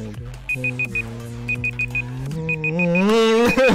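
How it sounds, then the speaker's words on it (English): Short high-pitched timer alarm beeps sound in clusters of four, repeating three times at a steady rhythm, loud and clear over a droning, rising electronic tone and voices. "The timer, ladies and gentlemen."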